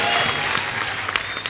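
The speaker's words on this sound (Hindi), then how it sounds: "जोरदार तालियों से स्वागत करिए" Steady studio audience applause on a comedy TV show, a dense wash of clapping that holds at an even level for a moment.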